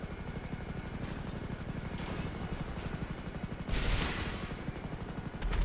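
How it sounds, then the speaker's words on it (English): A helicopter in GTA Online flies steadily and close, its rotor chopping evenly throughout, with a louder burst of noise near the end as gunfire or an impact sounds. "I can barely angle the helicopter low enough to be looking at him."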